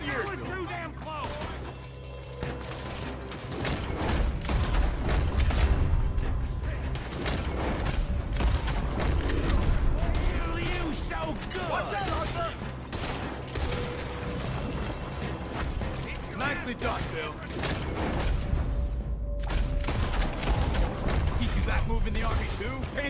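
Gunfire in the Red Dead Redemption video game crackles as dense, rapid shots and mechanical clatter, loud and continuous throughout, with voices talking over the shooting.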